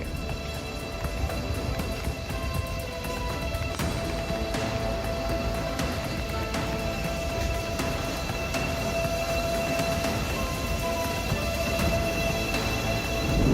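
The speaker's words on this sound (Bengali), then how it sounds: "এই দেখুন, আর একটা ট্রেন পানির উপর দিয়েই চলছে।" A train running through floodwater rumbles steadily past with rhythmic clattering wheels and a sustained tonal whine, loud and continuous throughout.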